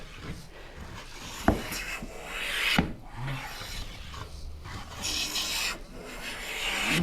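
A hand plane shaves wood on a Shaker Enfield cabinet, repeated rasping strokes of varying length with brief pauses and a sharp knock between passes, close and moderately loud.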